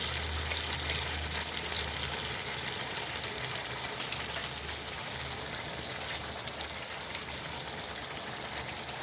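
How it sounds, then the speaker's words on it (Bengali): Potatoes and meat sizzle steadily in a hot pan, a continuous crackling hiss that holds even and fairly loud throughout, with no talking. "এখানে লাল লাল লাল লাল করে ভেজে নেব।"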